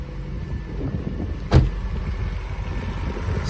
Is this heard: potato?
no